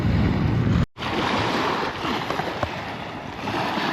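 Strong wind roars across the microphone on a riverside dam slope at night, a continuous broadband rush, briefly cutting out near the start, with faint water lapping underneath.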